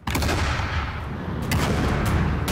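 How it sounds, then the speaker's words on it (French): Naval cannons fire during the Battle of Aboukir: a loud, continuous barrage of booming blasts, with heavier reports rising out of the roar. "Les premiers coups de canon retentissent."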